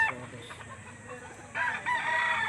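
Chickens and a rooster at a livestock auction market in Lipa cluck and call nearby, one bird letting out a louder sustained crow-like cry near the end, amid busy market background noise.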